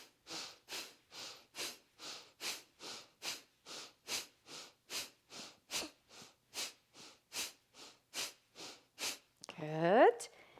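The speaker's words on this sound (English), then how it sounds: "you can go in and out through the nose, more of a breath of fire" Rapid breath-of-fire yoga breathing through the nose, about twenty evenly spaced forceful puffs in a steady rhythm, close and clear, ending with a short spoken word.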